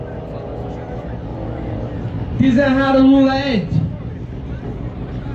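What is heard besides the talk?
Chevrolet Corvette C6 6.0 V8 engine racing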